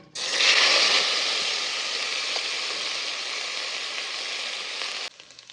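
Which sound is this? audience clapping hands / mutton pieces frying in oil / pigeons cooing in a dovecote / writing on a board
mutton pieces frying in oil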